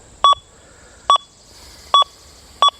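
Four short, clear electronic beeps in a steady rhythm, each a quick two-part tone, from a metal detector giving a two-way signal at 89 kHz.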